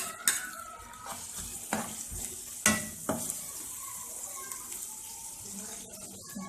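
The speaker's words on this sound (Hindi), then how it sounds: "इसको अच्छी तरीके से भून लेंगे" Spices, tomatoes, chillies, ginger-garlic paste and yogurt sizzle and crackle in a hot pan while a utensil stirs and scrapes with a few sharp clinks, close and steady, with faint background noise.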